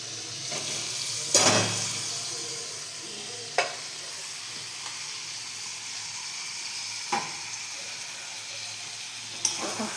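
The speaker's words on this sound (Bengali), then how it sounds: "এখন আমি এই চর্বিগুলো দিয়ে একটু কষাবো, তার সাথে আলুগুলোও আমি দিয়ে দেবো।" Chunks of fat and potatoes fry in a spiced masala in a pan, giving a steady soft sizzle with a few sharp stirring clinks and scrapes spaced across the stretch, with no talking.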